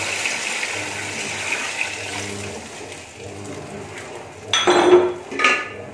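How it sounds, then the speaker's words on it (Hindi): Water is poured into a metal cooking pot for chicken pulao, a rushing splash that swells in two bursts near the end after a quieter stretch of low kitchen hum and faint clinks. "अब हम इसमें पानी शामिल करेंगे पानी हम चावल के हिसाब से शामिल करते हैं"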